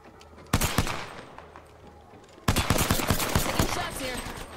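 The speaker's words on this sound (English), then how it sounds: "Taking shots here." Gunfire in the battle royale game Apex Legends: two loud bursts of rapid automatic shots, the second longer and denser, with game ambience between them.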